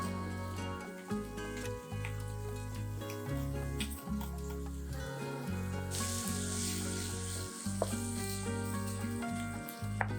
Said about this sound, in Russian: Сдвигаю овощи в сторону и отправляю в сковородку чеснок.